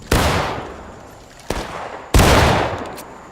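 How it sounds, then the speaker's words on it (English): Three loud, sharp gunshots from a video game at a railroad-cut battle around a flagpole, each a sudden blast with a long decaying tail; the second is softer, and there's no talk. "Keep shooting that flagpole."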